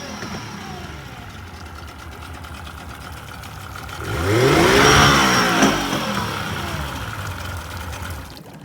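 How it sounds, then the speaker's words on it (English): The outboard engine of a 2006 Smokercraft Tracer boat idles low, then revs up sharply near the midpoint with a rising whine and eases back toward idle, loud and close. "I'll rev it a little bit so you can hear it."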